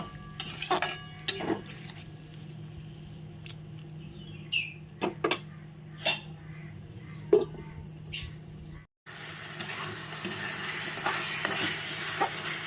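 Rice fries in oil in a pan for fish-head muri ghonto, a low continuous sizzle broken by several sharp clinks and scrapes of a spoon stirring against the pot, close by, with no speech.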